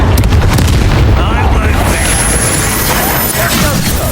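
Fiery spell blasts erupt from Incendio casting in Hogwarts Legacy, a loud continuous roar of booming combat noise throughout, with a voice speaking over the din.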